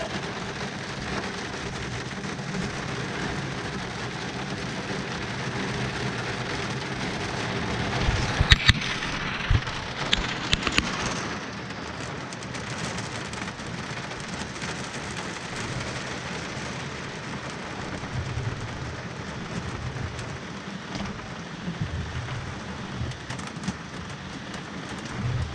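Hail pelting a boat and the ground outdoors in a dense, continuous clatter, with a few louder knocks and bangs partway through.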